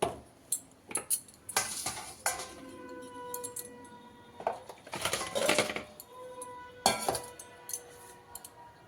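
Dishes washed in a home kitchen: metal pots, plates and cutlery clink and clatter in irregular bursts, with water splashing in between, close and fairly loud.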